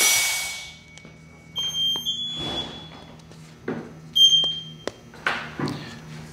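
An SCBA PASS alarm on a firefighter's breathing apparatus sounds in shrill electronic chirps and tones, mixed with clanks and bursts of hissing air from the gear being handled nearby.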